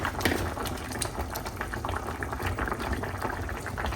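A vegetable curry of winter vegetables simmers in a pot before tilapia fish go in, a steady close bubbling and popping that runs evenly throughout with no voices.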